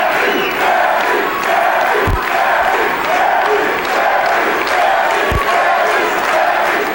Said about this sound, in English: they're cheering right now